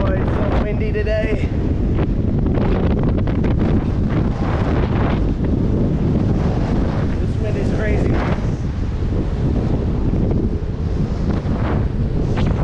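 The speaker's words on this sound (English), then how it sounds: "it's so windy today" Strong wind buffets the microphone outdoors in Heraklion, Crete, with a constant roaring rush, while a voice speaks briefly early on underneath the blustery noise.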